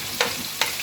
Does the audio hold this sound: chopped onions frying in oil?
yes